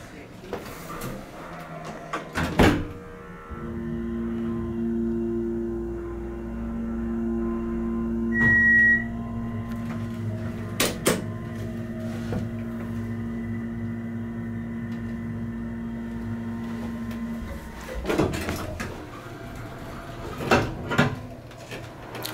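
A hydraulic elevator at a Florida beach hotel descending, a low steady hum holding for several seconds between clunks of doors and car movement, with people talking nearby.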